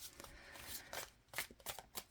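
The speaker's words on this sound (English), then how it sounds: "And 3 more shuffles." Tarot cards shuffled by hand in quick riffling bursts, several distinct rustling flurries separated by brief pauses, close and fairly quiet with no talking.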